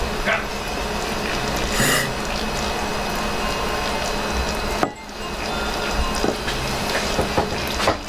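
Distilled water from a home DIY setup pours into a container, a steady trickling and splashing stream that runs continuously with a brief interruption midway and some mechanical noise, while people talk intermittently.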